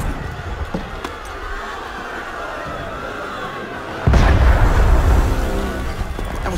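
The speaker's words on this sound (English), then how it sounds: "That was cannon fire." Cannon fire in the video game Assassin's Creed Unity arrives as a sudden heavy boom that rolls into sustained low rumble over a bed of crowd ambience, loud and close after a quieter stretch.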